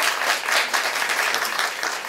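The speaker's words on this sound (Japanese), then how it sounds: "皆さんまた拍手を。" Audience applause fills a live show held at a memorial concert, a dense, steady wash of many hands clapping close and loud throughout, with no voices standing out above it.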